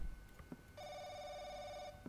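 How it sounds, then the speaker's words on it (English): A telephone in the horror game The Crooked Man gives one sustained electronic ring lasting about a second, a steady tonal trill over quiet background with faint knocks before and after. "Oh, the phone's ringing."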